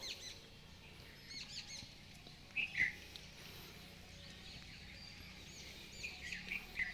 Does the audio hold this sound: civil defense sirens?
no